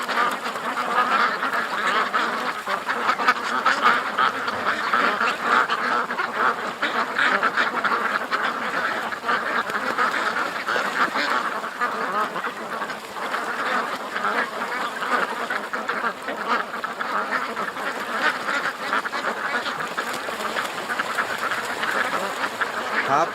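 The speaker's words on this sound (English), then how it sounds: "Okay, we got a bunch of ducks coming out." A crowd of ducks quacks and chatters steadily outdoors, many birds calling over one another in a constant, moderately loud din with no pauses.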